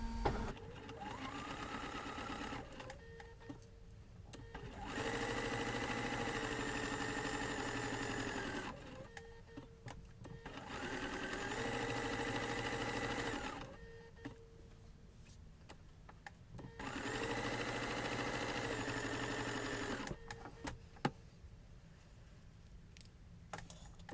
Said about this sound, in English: Here we just want to sew the entire seam from edge to edge.